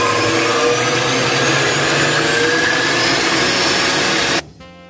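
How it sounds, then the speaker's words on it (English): An electric mixer whisks cream for a no-bake eggnog pie, a loud steady motor whir with beater churning running continuously before cutting off abruptly near the end. "we're going to allow this to whisk until it gets completely fluffy, until it forms nice peaks"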